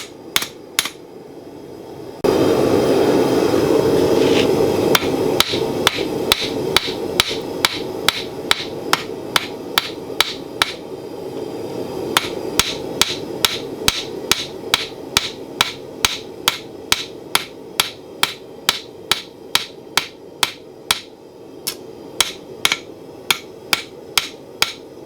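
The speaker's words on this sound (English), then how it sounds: "Light hits, just knocking off scale and smoothing out hammer blows." A blacksmith's hammer lands light, evenly spaced blows on a forged steel spoon, knocking off scale: a few sharp taps, then a steady run of crisp metallic strikes over a continuous roaring forge background, close and loud.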